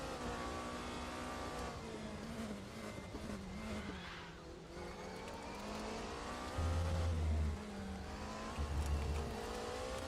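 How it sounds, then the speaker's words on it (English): A race car engine from the RaceRoom racing sim, heard from onboard, revs steadily with a rough, synthetic tone, dipping in pitch as the driver downshifts midway, then climbing again. It stays loud and close throughout, with no talking. "There's a certain artificial element in this engine sound that I don't like here."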